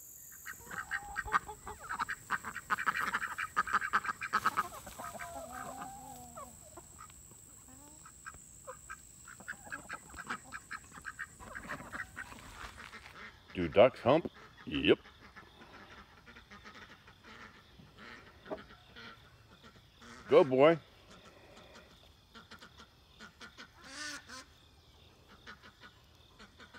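Ducks quack and honk in bursts near a nesting spot among poultry, loud calls standing out around the middle and later, with quiet background and brief talk.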